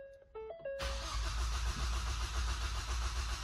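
A Ford EcoBoost engine cranks and catches during a cold-start misfire test, a brief whirring start bursting into a loud, steady idle close by with no talking.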